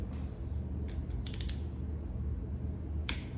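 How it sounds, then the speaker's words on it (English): A torque wrench clicks as it reaches 23 foot-pounds while a piston is refitted in a B18B1 engine during ring replacement: two crisp metallic clicks about two seconds apart over a low steady hum. "You're gonna want to torque spec all the way to 23 foot-pounds. So, click,"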